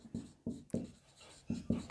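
Chalk or pen writing on a board during a chemistry lesson, five distinct scratchy strokes in an uneven rhythm, close and fairly quiet with no talking.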